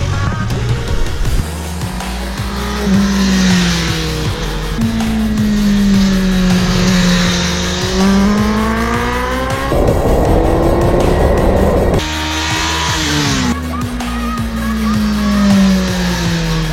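A race car laps the Alès circuit on Michelin Power RS tyres, its engine loud and close, rising and falling in pitch through gear changes with sustained high revs, a brief burst of broadband roar midway.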